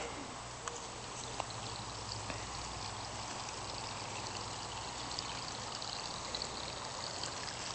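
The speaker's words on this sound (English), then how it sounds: "So the overflow from the pond just kind of dumps out right there." Overflow from a garden pond dumps into an irrigation ditch as a steady, close rush of pouring water with a constant splashing roar throughout and a few small drips and clicks on top.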